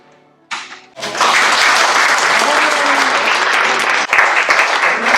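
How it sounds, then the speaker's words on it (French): Loud, sustained applause from a crowd swells after a brief start and continues steadily, with a burst of renewed clapping near the end. "j'ai récolté tous les applaudissements"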